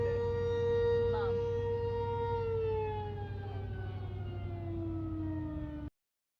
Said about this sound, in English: Gosh, finally some sirens. It's like the first time we've heard sirens all day.